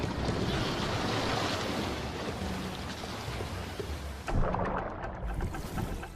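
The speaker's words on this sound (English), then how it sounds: "By the afternoon, a wind ruffles the sea." Wind sweeps over the open sea as waves roll and break, a loud continuous rumbling wash with gusty buffeting, with a surging crash near the end.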